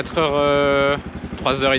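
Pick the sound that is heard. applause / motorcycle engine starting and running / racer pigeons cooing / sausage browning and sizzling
motorcycle engine starting and running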